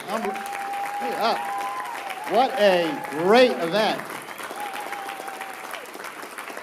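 Audience applause at a Digital Footprint personal-development event in Anaheim, a steady wash of clapping running beneath someone speaking over a microphone throughout.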